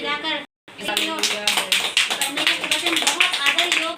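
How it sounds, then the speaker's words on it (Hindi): A Hindi-speaking Christian congregation claps in worship, rhythmic hand claps keeping time under loud voices singing and calling out, after a brief pause at the start. "ताली बजाकर"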